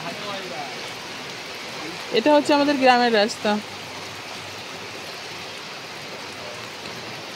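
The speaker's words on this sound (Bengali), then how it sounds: "দেখতে পাচ্ছ রাস্তায় প্রচুর পরিমাণে বৃষ্টি হচ্ছে আমাদের এদিকে" Heavy rain falls on a village road as a steady, broad hiss throughout, with someone speaking briefly over it partway through.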